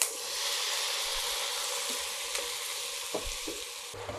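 Soya chunks frying in Freedom oil, a continuous close sizzle with occasional spatula taps and scrapes near the end, no voices.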